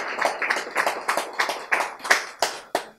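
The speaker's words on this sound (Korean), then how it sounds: "박수!" Roughly nine sharp, separate claps from an audience at a lecture, landing in a quick, slightly uneven rhythm, close and clear with no talk over them.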